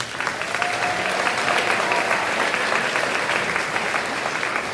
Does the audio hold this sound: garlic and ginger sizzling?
no